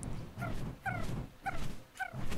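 A creature in Ark: Scorched Earth lets out four short whimpering, yelping growls at regular intervals, each a tonal whine over low background rumble.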